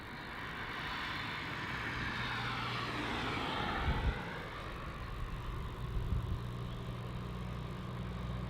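A Cathay Pacific Cargo Boeing 747 taxis toward runway 16 at Melbourne Airport, its engines giving a steady, fairly loud rumble and whine that swells slightly midway, with no talk over it.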